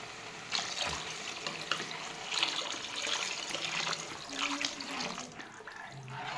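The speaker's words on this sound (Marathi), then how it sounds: "आता पाणी टाकून घेतलंय." Water splashes steadily into a cooking pot while a grandmother prepares traditional khengat, a continuous close hissing pour with small gurgling shifts and no talk.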